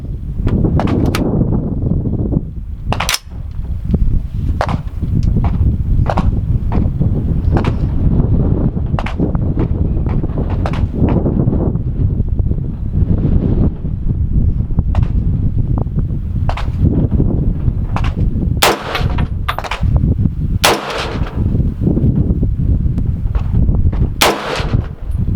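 Long-range rifle shots crack out one after another at irregular intervals over constant heavy wind buffeting the microphone, each report sharp and brief.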